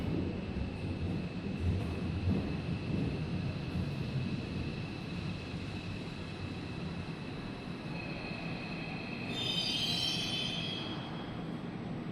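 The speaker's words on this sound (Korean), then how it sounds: "The approaching train is not a passenger train." A new Busan Metro Line 1 test train rumbles into Namsan station with a steady, loud broadband roar, and a high whine rises near the end as it arrives. No one speaks.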